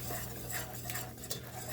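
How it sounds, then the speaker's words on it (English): A whisk stirs flour into mac and cheese sauce in a pot, giving a steady, continuous scraping swish with light metallic ticks throughout, close up and with no talking. "Now we're going to whisk this together and cook the taste"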